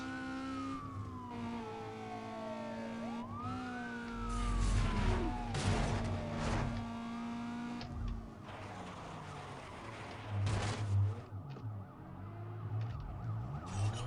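Police car sirens wail in rising and falling sweeps during a chase in the video game Need for Speed Most Wanted, mixed with engine roar and sharp bursts of impact noise.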